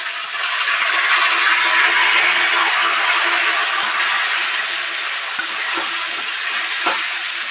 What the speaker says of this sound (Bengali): আলু আর পেঁয়াজ একসঙ্গেই ভাজতে দিয়ে দেবো।